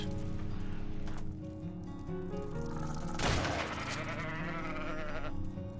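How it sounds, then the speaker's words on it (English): An Ovis, the sheep creature in the video game Ark, bleats loudly and close over steady game background noise, with one sharper burst partway through. "Of all the things, it's a bloody Ovis."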